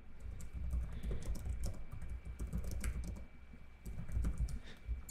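Fast, steady typing on a computer keyboard with one broken key, a dense patter of close, soft key clicks running continuously and fairly quietly, with no voices.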